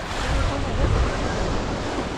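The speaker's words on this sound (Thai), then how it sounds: "น้ำมันกำลังขึ้น ทะเลมันหนุนนะครับ" Sea waves at Saint-Malo on a rising tide rumble and wash in a loud, continuous surf roar, with strong wind buffeting the microphone.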